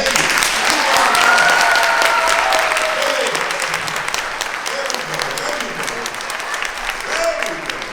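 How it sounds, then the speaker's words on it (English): Adults in a conference audience clap steadily for a group of teens, a dense, even wash of applause with a faint crowd murmur underneath that tapers slightly toward the end. "I need the adults to help me celebrate the teens by clapping your hands"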